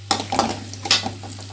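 Mustard-seed and fenugreek tempering in hot oil for raw mango chitranna, spoon stirring through it in a few short scrapes over a low, steady background hum, with a soft crackle between strokes.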